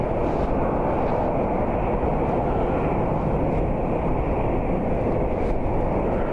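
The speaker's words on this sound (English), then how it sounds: "the American A320 that just pushed back is flight 2731" Airbus A320 airliner at Cleveland Hopkins airport, an American flight just pushed back, with a steady broadband engine roar that holds constant throughout, loud and continuous with no talk.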